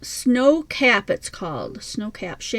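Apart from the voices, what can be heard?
No everyday noises stand out.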